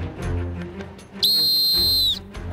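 A single long, loud referee's whistle blast starts a team balance game on a TV competition show, sounding clearly for nearly a second after quieter background noise.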